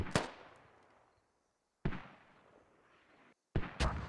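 Mortar fire in a military video game: three separate sharp booms, each followed by a fading rumble, spaced out over a few seconds with brief silence between them.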